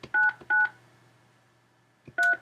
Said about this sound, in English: Please enter personal identification number, then press hash.